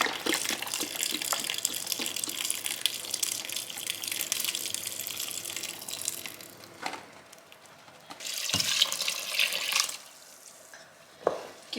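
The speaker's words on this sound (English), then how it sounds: "And then I'm just going to add 2 cups of water." Two cups of water pour into a pot already holding a carton of low sodium vegetable broth, a steady broadband gush running about seven seconds, then a pause and a second shorter pour with a faint splash at the end.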